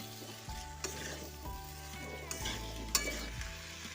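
Pumpkin and potato chunks stir-fried in a pan for a fish-head and Malabar spinach curry, a steady sizzle broken by several scraping clanks of a spatula against the metal, close and alone with no voices.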